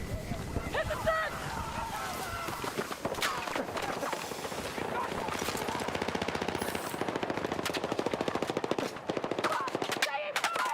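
Battlefield 6 combat gunfire, with rapid automatic weapon bursts and scattered single shots rattling steadily throughout, loud and close, mixed with shouting voices and ambient battlefield noise.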